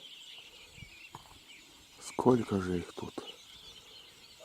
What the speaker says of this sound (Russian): Надеюсь, камера записывает голос птиц.